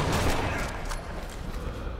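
Gunfire from the video game Sniper Elite: Nazi Zombie Army, a dense, loud burst of shots filling the whole moment with no talk over it.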